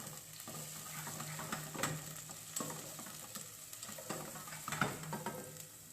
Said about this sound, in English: some bay leaf, and chopped onion, saute a little bit